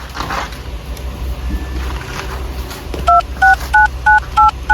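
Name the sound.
telephone number being dialed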